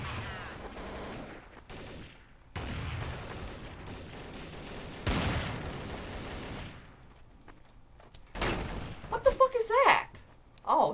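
Gunfire from Counter-Strike: Source, with rapid automatic bursts and harsh shots going off close and loud in uneven volleys across the match, while a player talks over part of the action.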